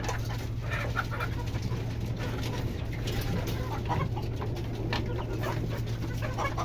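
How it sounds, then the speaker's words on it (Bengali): Laying-age hens on a small home poultry farm cluck softly in short, scattered calls over a steady low electrical hum, fairly near but quiet, with no talking. "এই হচ্ছে আমার মুরগিগুলো"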